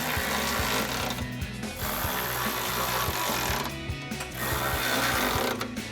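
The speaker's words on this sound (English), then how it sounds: "take a 17mm socket and wrench to tighten those down" Ratchet wrench with a 17mm socket tightening bolts on a Jeep Wrangler JK tubular front bumper, giving steady rapid clicking in repeated bursts close up, with no talking.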